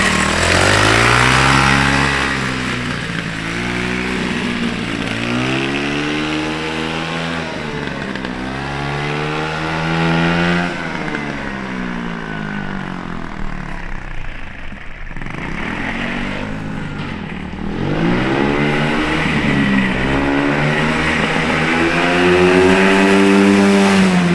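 Engine of a homemade snowmobile built from a shopping cart, loud and close, revving up and down in repeated rising surges with a brief dip before climbing again.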